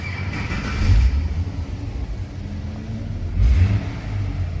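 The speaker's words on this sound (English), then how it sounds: "this one is the straight 6 engine and it's bog stock standard" A stock straight-six engine in a Ford EL Fairmont rumbles steadily close by, heard with the car door open, with two brief surges in loudness that sound like light revs over the idle.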